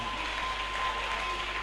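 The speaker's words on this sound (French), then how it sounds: "Ça s'applaudit, ça." Applause for a church pastor at a Genese church gathering, a steady dense wash of clapping held at an even level throughout, with no voices rising above it.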